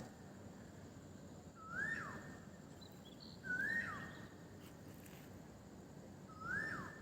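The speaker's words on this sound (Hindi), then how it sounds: "कोयल की आवाज़ सुन रहे हैं आप" An Asian koel calls at dawn in the pre-dawn dark near a college, giving three separate rising whistled notes spaced a few seconds apart, moderately distant over a low, steady ambient hum.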